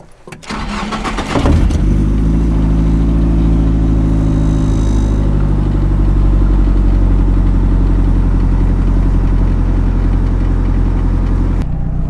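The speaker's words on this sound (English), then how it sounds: "The car is idling cleanly" A Nissan 240SX S13 with an SR20DET engine cranks and catches, then settles into a steady, loud idle that runs evenly until a sudden stop near the end, with no voices.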